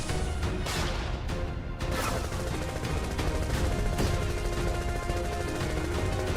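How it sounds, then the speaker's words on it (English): Dense, loud bursts of gunfire and crashing impacts in modded Final Fantasy VII overlap in a chaotic, continuous barrage with no voices. "Wait, do you hear that? Above us. Gunfire?"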